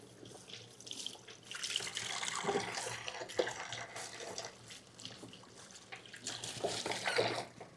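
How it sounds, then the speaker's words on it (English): A kitchen sink tap runs steadily while hands are washed beneath it, water splashing and gurgling unevenly, close and fairly quiet with no talk. "Let me wash my hands."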